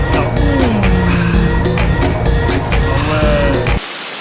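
A car drifts with tires squealing and skidding loudly over engine noise, close by and continuous for several seconds before cutting off abruptly.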